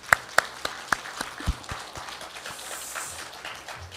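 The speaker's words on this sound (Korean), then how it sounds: "박수 한번 올려드립니다." A church congregation at a year-end Sunday service claps, a few sharp separate claps at first that swell into a soft, continuous wash of applause.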